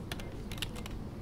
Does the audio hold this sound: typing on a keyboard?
yes